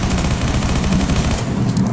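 Rapid automatic gunfire in a Roblox zombie game, a loud dense burst of shots rattling continuously as the player retreats, with no talk.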